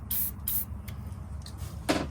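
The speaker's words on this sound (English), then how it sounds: "I'm just going to spray a little bit of ram oil on this." Short hissing bursts of spray oil aimed at a Case XX trapper pocketknife during blade repair, two quick sprays close by, then a pause and a third spray with faint handling noise.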